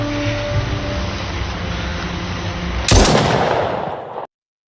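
Gunfire in a Yakuza gangster film shootout scene: a dense, sustained roar of shots, then a sharper, louder burst that rings out before cutting off abruptly.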